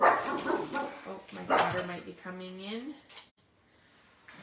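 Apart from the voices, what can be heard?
small dog barking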